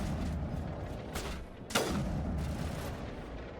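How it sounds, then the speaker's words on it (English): A grenade launcher fires in the video game Mass Effect, a single sharp boom standing out over a steady bed of game noise and rumble, with other muffled combat sounds around it. "He has a grenade launcher too!"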